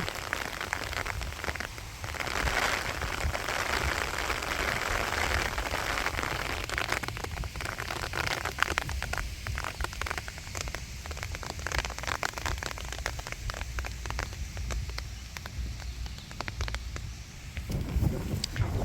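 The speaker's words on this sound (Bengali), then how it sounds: "বৃষ্টি আর বৃষ্টি এই বৃষ্টি এই" Steady rain patters on surfaces in a village throughout, a dense hiss with scattered sharper drops, close and constant with no voices.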